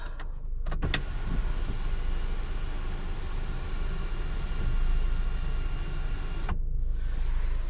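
An electric sunroof on a Mercedes-Benz GLA200 runs with a steady whirring motor hum inside the car, starting and stopping with faint clicks.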